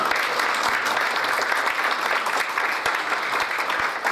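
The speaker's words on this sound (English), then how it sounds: "let's give a round of applause for Golden Stella" Dinner event audience applauding a sponsor, continuous clapping with a few sharper individual claps standing out over the steady crowd.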